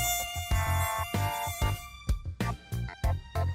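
A male mosquito's buzz whines on with bright stacked harmonics, broken into several short bursts that stop and restart in an uneven rhythm, near and clear with no one speaking.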